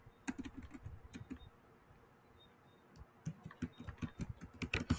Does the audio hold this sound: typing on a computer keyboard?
yes